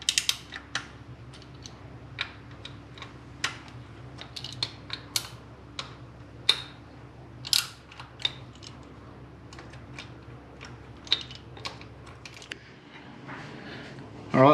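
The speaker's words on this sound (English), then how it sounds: "So I will grab my 10mm, we'll loosen those." Small sharp metallic clicks and ticks from a 10mm wrench working loose the ignition coil bolts on a Mitsubishi Lancer Evo X engine, scattered and irregular over a low steady hum.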